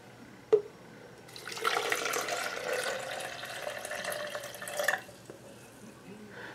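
Water runs into an MRE bag up to the 12-ounce fill line, a steady broadband pour lasting about three seconds at moderate level after a brief sharp tap, then stopping.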